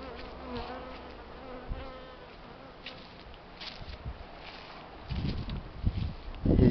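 Steady buzzing of honeybees close by on a winter cleansing flight in Belarus in February, with a few louder swells as bees pass near, plus light rustling and handling sounds.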